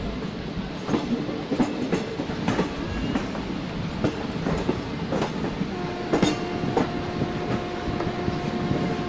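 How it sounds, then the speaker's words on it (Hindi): Avadh Express passenger train in Indian Train Simulator (MSTS) pulling out of Kachraud station, with a steady rolling rumble, rhythmic clickety-clack of wheels over rail joints and faint squeals, moderately loud and without voices. "so right now the Awadh express is departing from"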